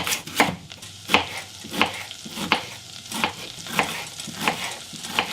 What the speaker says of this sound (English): I'm gonna start chopping onions for the chicken.